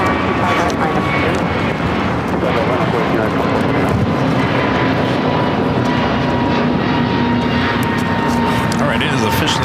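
An airliner on the runway at LAX, heard as a steady loud engine roar that holds for the whole stretch, with radio talk from the control tower running over it.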